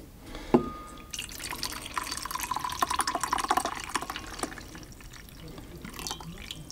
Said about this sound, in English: I'm going to pour out the rest of the coffee just for a moment.